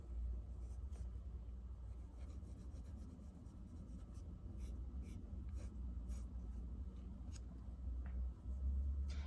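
A 14 karat gold fountain pen nib writing figure eights on paper, giving a close, continuous soft scratching and rubbing with faint rhythmic strokes.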